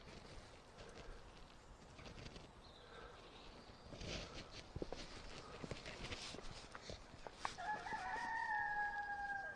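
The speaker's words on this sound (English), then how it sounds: "I got cockerels going for it" Cockerels crow at the Abbey at Pluscarden in Scotland, a long drawn-out cock-a-doodle-doo rising near the end over outdoor ambience with footsteps and rustling, moderately distant.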